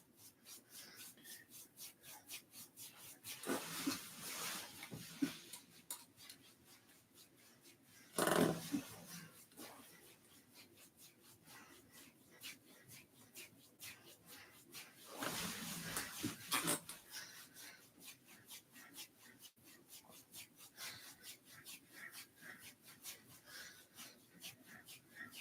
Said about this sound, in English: we're going to rub up from the jaw to the ear, and for that, there's some friction involved